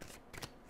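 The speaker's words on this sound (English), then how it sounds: "I'm just going to keep shuffling until I do." A tarot deck is shuffled by hand in a few quick riffling bursts. The sound is close and brief, with no talk over it.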